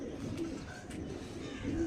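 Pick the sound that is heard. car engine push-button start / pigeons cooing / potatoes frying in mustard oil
pigeons cooing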